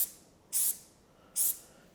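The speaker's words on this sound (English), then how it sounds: "Just give it a quick spray, make sure it sprays evenly." Two short hissing bursts from an X40 canister spray gun, each about a fifth of a second, close and fairly loud, with quiet gaps between them.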